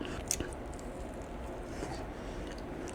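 Someone bites into a slice of egg pie and chews it, producing quiet, close, soft squishy chewing sounds over a low background hiss, with no talking.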